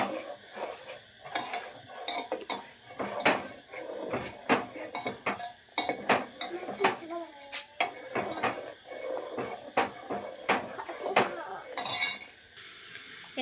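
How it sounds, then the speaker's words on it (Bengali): Curdled milk being strained through a sieve: irregular metallic clinks and scrapes of a utensil against the strainer and pot, close and moderately loud, repeating in uneven bursts. "এখন আমি ছেঁকে নেব"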